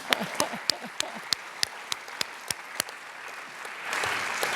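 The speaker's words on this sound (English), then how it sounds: "So let's just give a round of applause." Audience applause at an Earth Charter event at the Peace Palace in the Netherlands, with loud distinct claps at a steady pace over a softer patter that swells into a broader wash of clapping near the end.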